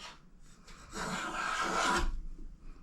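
A Jorgensen #102 hand plane shaves wood along a board edge, making one close, raspy stroke that swells for about a second, with fainter scraping handling sounds before and after.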